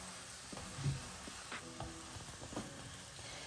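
Pancake batter sizzling in a frying pan as a golden-brown pancake is turned over. A quiet, steady crackle carries a few soft clicks and taps from the spatula.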